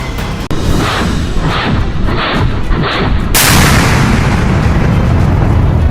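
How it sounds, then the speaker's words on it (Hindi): A series of heavy, rapid booming bursts from a light combat helicopter's weapons, then a sustained, loud roar of gunfire and blasts that fills the rest of the clip. "LCH यानी लाइट कॉम्बैट हेलीकॉप्टर का धमाका देखिए, इसकी फायर पावर देखिए"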